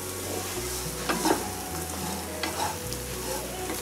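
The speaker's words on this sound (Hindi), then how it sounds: "मसाले के साथ इसको थोड़ा सा एक मिनट तक भून रही हूँ, बहुत ज़्यादा भूनना नहीं है।" Besan dumplings roasting with spices in a pan, dry close sizzling under brisk repeated stirring and scraping strokes, with no talking.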